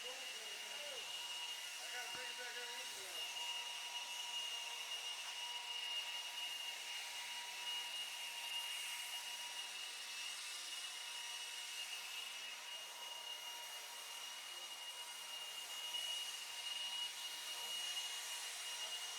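Blowers running at a racetrack after a race, giving a steady, continuous airy whine and hiss that holds at an even level throughout, somewhat distant and moderately faint.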